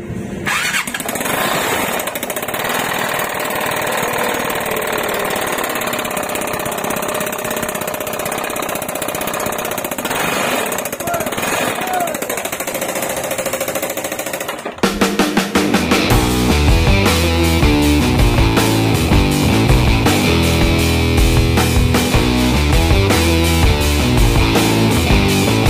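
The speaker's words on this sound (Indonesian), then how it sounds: "Motornya suaranya ngeri banget ya." A Vespa Sprint scooter engine, damaged from late oil changes, revs loud and close with a rough, uneven sputter, then settles into a harsh, rattling idle that keeps running.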